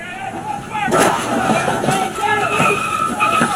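A police officer's gunshots ring out during an officer-involved shooting in Fort Worth: loud, close, sustained blasts and clatter mixed with shouting voices.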